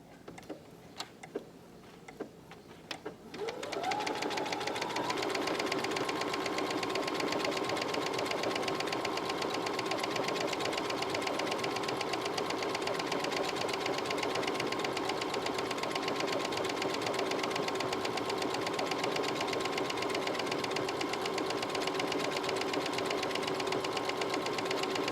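A sewing machine with a dynamic walking foot stitching a decorative heart pattern runs steadily after a few faint clicks, its rapid even whirr continuing close and unbroken to the end.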